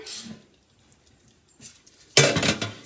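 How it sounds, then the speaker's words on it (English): A metal pan is picked up and handled in a home kitchen while making toffee, with a faint clink early on, then a sharp clattering knock and scraping near the end. "I'm gonna get my pan."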